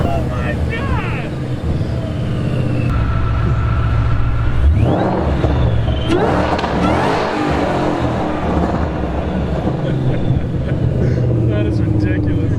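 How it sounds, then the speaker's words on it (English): An S550 Mustang with a swapped Terminator engine revs hard. The deep engine roar climbs and falls through several throttle blips, loud and close, while excited voices talk over it. "It literally sounds like a Termi."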